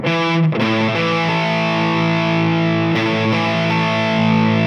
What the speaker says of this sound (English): Once you get it clean, you can go ahead and turn your distortion on.